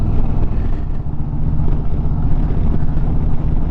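Gusty wind roars steadily and loudly across the microphone while riding an Indian Chieftain motorcycle, a dense continuous rumble with no speech.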